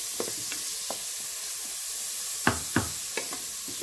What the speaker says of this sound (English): I'm going to fry the bacon so it's golden brown.